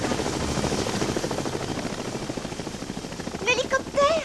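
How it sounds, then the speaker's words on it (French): A helicopter's steady chopping rotor thump fills the scene, with a voice briefly rising over it near the end. "Écoute, Spirou. C'est l'hélicoptère."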